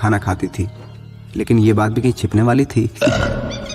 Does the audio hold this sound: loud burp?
yes